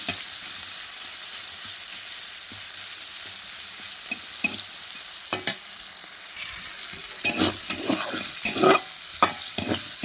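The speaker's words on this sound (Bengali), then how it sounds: "তো আলু আর চিংড়িগুলো একটু ভালো করে ভেজে নিতে হবে লাল লাল করে।" Potatoes and shrimp fry in a pan with a continuous close sizzle, broken by sharp scraping stirs that grow busier and louder toward the end.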